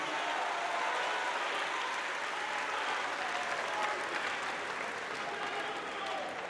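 Sustained audience applause at a tribute ceremony in Abidjan for a famous musician, a dense, steady wash of clapping at full volume from start to finish with no gaps.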